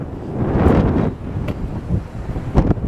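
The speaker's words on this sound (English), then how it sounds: "Windy here in Simi today." Strong wind buffets the microphone outdoors in Simi beside a 1959 Ford Galaxie 500 Skyliner, a loud, uneven roar with gusts peaking early and again near the end.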